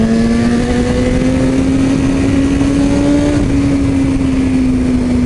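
Kawasaki motorcycle accelerating hard up close, a loud steady engine drone with pitch climbing gradually throughout, no talking.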